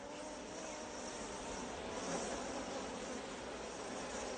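Honey bees buzz in a beekeeper's garden, a soft, steady hum of many insects droning together at a low level, with no voices.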